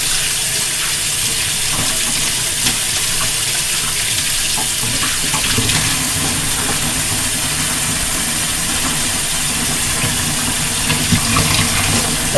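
A kitchen tap runs steadily into a sink while juicer parts are washed, a constant close splashing hiss with no pauses and no talking.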